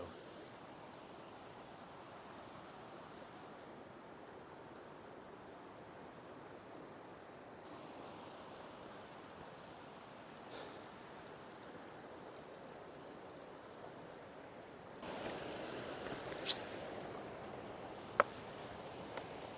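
Running water in a rocky gorge, a faint, steady broadband rush of flowing stream with soft wind over it, growing slightly louder near the end.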